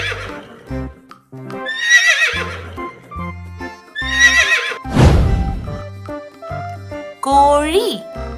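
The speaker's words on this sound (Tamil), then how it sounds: "குதிரையோட சத்தம் எப்படி இருக்கும்னு தெரியுமா?" A horse whinnies several times in loud, high, shaking neighs, with hoof clip-clop and a voice in the background, set against a farm scene.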